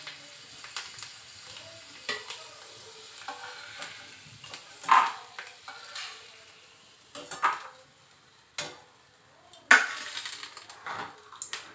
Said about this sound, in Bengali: আগে দুটি বাদাম ভেজে নিই।